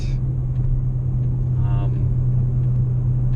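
A Ford Focus ST with a Quaife limited-slip differential is punched to full throttle in third gear around 50 mph, its engine a loud, steady low drone heard close up inside the cabin.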